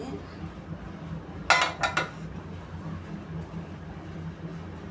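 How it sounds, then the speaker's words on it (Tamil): A hot pressure cooker being opened while baking an eggless semolina and maida cake, giving a short cluster of sharp metallic clanks and clinks from the lid against the pot, close by and alone over a quiet background. "இப்போ குக்கர் ஓப்பன் பண்ணி பார்க்கலாம்"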